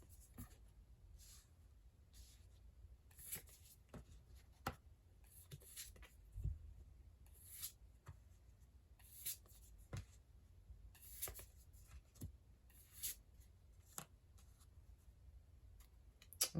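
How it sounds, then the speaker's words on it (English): Tarot cards are laid out one by one on a table, with soft, quiet slaps and slides of card on the surface at an irregular pace. "Let's lay out the rest of the cards."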